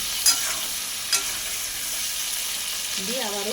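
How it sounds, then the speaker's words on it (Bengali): Potatoes and pointed gourd frying in a pan, with a steady close sizzle, a couple of sharp clinks from stirring, and a brief voice near the end. "তো আলু আর পটলটাকে আমি প্রথমে ভেজে নেব"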